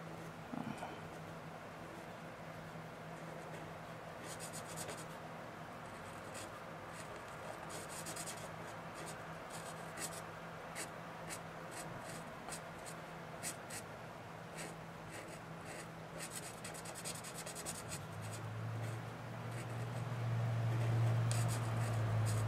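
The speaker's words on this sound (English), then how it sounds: "Actually, I'll color this with the bullet nib." Acrylic marker with a bullet nib coloring on paper, giving a steady soft scratchy rubbing that runs continuously and close, with faint background hum and no talk.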